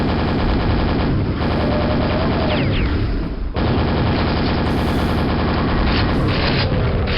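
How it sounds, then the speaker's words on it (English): Rapid nail gun and super nail gun fire in the Quake mod Copper, a loud, dense stream of metallic shots that fills the whole stretch with only brief gaps. "And with the nail gun, super nail gun"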